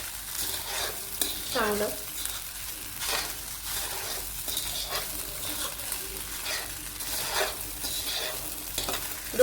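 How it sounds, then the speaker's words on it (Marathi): Sabudana khichdi mixture with potato, peanuts and chilli stirred in a pan, with continuous scraping and soft sizzling heard close up, and a brief spoken word over it. "दोन मिनिटं छान हलवायचं"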